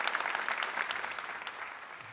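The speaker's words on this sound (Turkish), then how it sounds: "Bir alkış Buğra'ya efendim ya" A Turkish television studio audience applauds Buğra, giving a brief burst of dense, crackling clapping that tapers off slightly toward the end.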